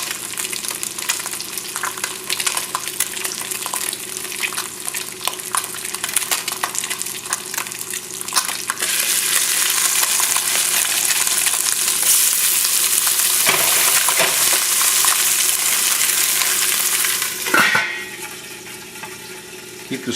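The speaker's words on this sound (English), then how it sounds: "While it is sauteing" Almond-encrusted fish fillet sautéing over a high flame in a hot pan indoors, a loud continuous sizzle that swells midway and dips briefly near the end with a clatter, no talk.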